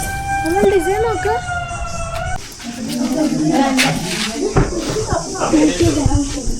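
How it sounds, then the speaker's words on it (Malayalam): A closing-time warning siren wails, rising and falling for a couple of seconds, then cuts off as people talk and ambient noise continue at St. Angelo Fort, Kannur. "ഇവിടെയുള്ള ആൾക്കാർക്ക് ഒരു ഇൻസ്ട്രക്ഷൻ എന്ന രീതിയിൽ ഒരു സൈറൻ മുഴകുന്നതാണ് ആ കേൾക്കുന്നത്"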